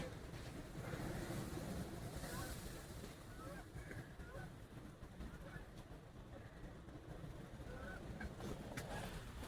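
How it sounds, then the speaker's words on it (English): Geese honk faintly in the distance over a quiet outdoor scene in Ewen, Michigan as storms blow in, scattered calls against a steady wash of wind and water. "There's the geese."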